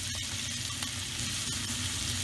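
Breakfast sausage sizzles in a pan just after being flipped over, a loud, close, continuous hiss with a few sharp crackles.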